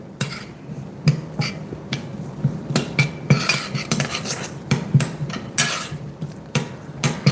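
Metal utensils clatter and scrape repeatedly against a pan, irregular sharp clinks and stirring scratches, while dry roasting spices for raw mango chutney, close up with no talking.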